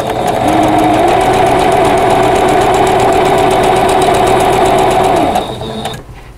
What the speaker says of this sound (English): I'm going to sew right on that line